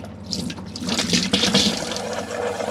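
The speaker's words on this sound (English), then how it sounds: "And you'll get pressurized water flow." A tap in a Mobilvetta motorhome runs pressurized water in a steady, close hissing stream, slightly sputtering as air clears from the lines, with no voices.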